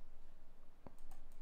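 A single sharp computer mouse click is heard during office work, followed by a couple of fainter clicks. A quiet hiss sits in the background.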